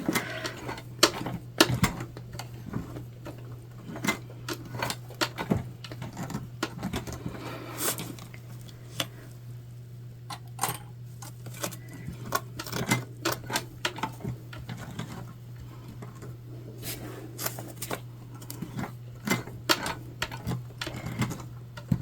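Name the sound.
sewing machine stitching tote bag seam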